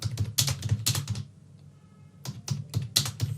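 Computer keyboard typing form details, with quick close bursts of key clicks, a short pause, then another run of keystrokes.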